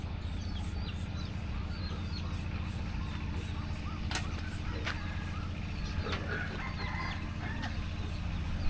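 Hens cluck softly here and there in a Lao village stilt house where a hen sits brooding on eggs, with the odd rooster note, all over a steady low hum and background noise.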